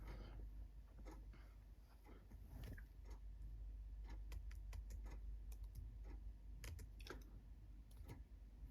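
Computer keyboard typing, light irregular clicks and taps at close range, scattered in short bursts over a steady low background hum, with no talking.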